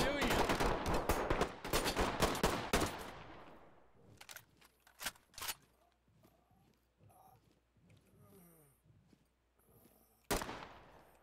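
Rapid gunfire from a modded map of The Quarry video game rings out as a dense volley of loud close shots, then thins to scattered single cracks with quieter movement between, ending on one last sharp report.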